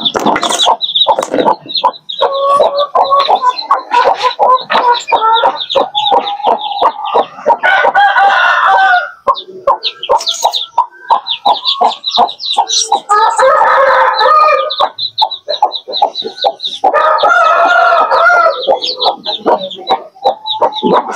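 A hen clucks steadily to call her chicks, with rapid repeated clucks running throughout and louder, drawn-out calls breaking in several times, close and clear over a quiet farmyard.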